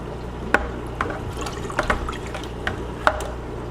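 Aquarium water siphoned out during a water change in a Neocaridina shrimp tank, running into a bucket as a steady close trickle with a few brief splashy drips.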